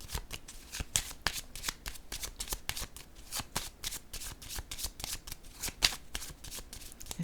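A deck of playing cards is shuffled repeatedly by hand in a quiet room, a steady run of crisp riffles and flutters, close and fairly quiet, with no talking.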